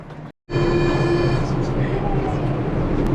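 Steady rumble and whine of the CDGVAL airport shuttle train at Charles de Gaulle Airport in motion, close by, with faint hum and a brief drop-out at the start.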